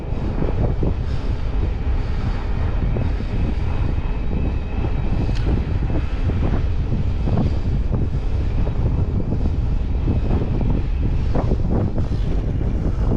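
Strong wind buffets the microphone in a constant, heavy roar with gusty rumbles throughout, no voices present.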